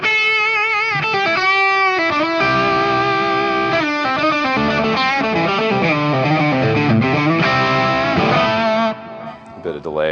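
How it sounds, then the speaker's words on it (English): Electric guitar played through a homemade overdrive pedal with extra gain and a touch of delay, ringing out sustained, saturated notes and chords for about nine seconds before cutting off. "this one's an overdrive I came up with, a little bit more gain than the one on the other"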